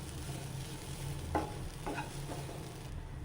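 Onion, garlic, green chili, curry leaves with chili, coriander and turmeric powders frying in a pan for paneer roast, a steady close sizzle with a few scraping stirs of a spoon, no voices.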